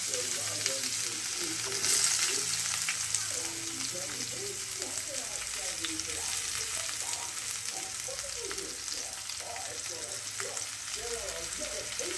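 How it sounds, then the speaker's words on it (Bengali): Chopped onion and slit green chilies crackle in hot oil with nigella seeds, a dense, steady, close sizzle full of fine popping, running throughout without pause. "এখন পেঁয়াজ কুচো এই দিলাম পেঁয়াজ আর কাঁচা লঙ্কা চেরা"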